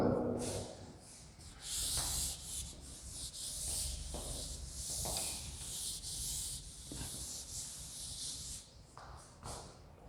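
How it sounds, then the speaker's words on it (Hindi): A board in a class 10 science lesson is rubbed clean to erase a drawing, giving repeated close, scratchy rubbing strokes in uneven bursts with brief pauses between them. "चलो अब इसको रब कर देता हूं मैं।"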